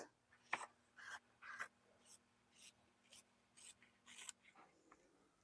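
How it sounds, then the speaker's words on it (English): Regular fabric scissors snip through a bulky quilt wrist cuff in a series of about eight crisp, evenly spaced cuts, close and distinct against near silence. "I'm just going to use my regular fabric scissors to cut off anything really bulky, like this wrist cuff"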